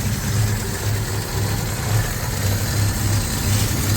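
The engine of a 1965 Plymouth Valiant 100 runs on its own fuel system, idling loud and close with a steady low rumble and a slightly uneven pulsing beat.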